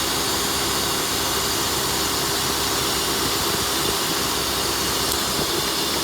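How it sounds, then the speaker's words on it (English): Car engine idling with a cylinder misfire, a steady close rumbling drone with broad hiss and slight uneven roughness, continuous and alone without talk. "See this, the engine is like vibrating. There's a misfire going on."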